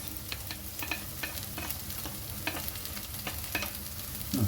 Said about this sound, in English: Frying the cabbages and the carrots.